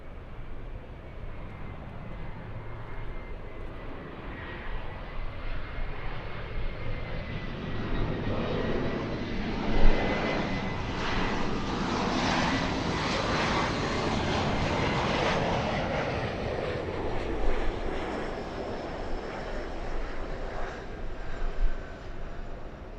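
A KLM Boeing Dreamliner's jet engines roar steadily through a takeoff roll, building to a broad loud peak mid-way with a faint whine running above, then easing slightly as the aircraft climbs away; no talk.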